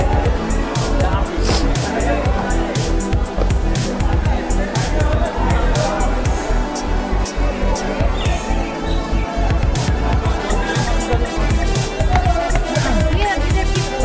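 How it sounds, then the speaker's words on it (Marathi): Dense crowd of visitors gathered at the Ellora caves, a steady loud hubbub of many overlapping voices and footsteps close around, continuous chatter throughout with no single sound standing out. "बघा काय किती गर्दी झालेली, किती माणसं जमा झालेले तिथं"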